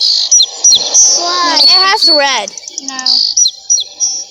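A small sparrow chirps and trills repeatedly at close range, with rapid warbling runs and sharp tweets, while people talk over it.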